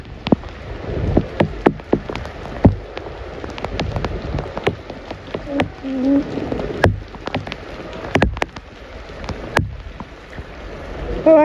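Rain falls steadily, a dense patter with sharp, irregular drop impacts and clicks scattered throughout.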